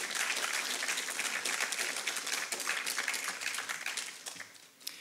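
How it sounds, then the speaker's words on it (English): An audience at a conference opening ceremony applauds, dense sustained clapping from a large crowd that holds steady and then thins out and fades near the end. "Ladies and gentlemen, please give them a round of applause."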